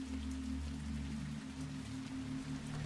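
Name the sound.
raindrops falling on an evening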